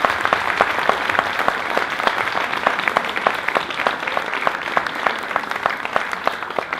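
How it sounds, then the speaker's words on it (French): An audience applauds steadily throughout, a dense patter of many hands clapping at an even level without letup. "Je pense que toutes ces personnes méritent nos plus vifs applaudissements"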